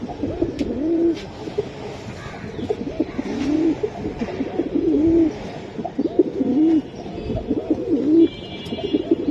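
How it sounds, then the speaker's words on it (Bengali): Silver and mongoose-colored pigeons coo nearby in a repeated, rolling rhythm of low throaty calls, several phrases over the stretch, with faint chirps in the background. "এটা সিলভার কবুতর, নটটার মাদিটা হচ্ছে বেজি কবুতর"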